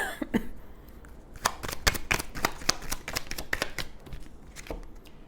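A deck of oracle cards is shuffled close up, giving a quick series of crisp riffling flicks and soft slaps over about five seconds.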